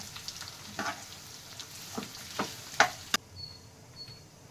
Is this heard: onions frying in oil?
yes